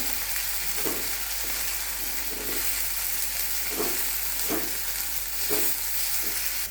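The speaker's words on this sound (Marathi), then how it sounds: "1 टोमॅटो मोठा घेतलेला आहे, साधारण 1 वाटी, तोही छान परतून घेते" Onion, tomato and spice paste sautés in a pan for a Marathi vegetable dish, a constant close sizzle with a spatula stirring and scraping at regular intervals.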